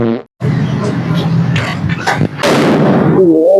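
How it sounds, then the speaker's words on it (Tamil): A Diwali firecracker bomb goes off outdoors as a loud, sharp blast, followed by a burst of crackling and excited crowd voices and shouting. "கைஸ் சரியான ஒரு பிளாஸ்டா இருந்து"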